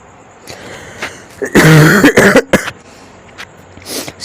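A man coughs several times in a loud, close burst, with a throat-clearing sound and a few quieter sounds before and after it.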